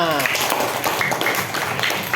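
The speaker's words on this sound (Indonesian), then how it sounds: "tepuk tangan buat kita semua" Fifth-grade pupils clapping together in an elementary school classroom, a busy, close patter of many hands filling the room without pause, with voices mixed in.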